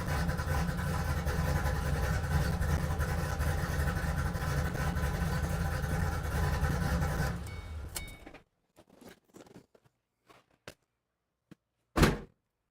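A car engine idling after an oil change, a loud, rough, steady rumble close by for about eight seconds before it cuts off, followed by a few scattered knocks and a thunk.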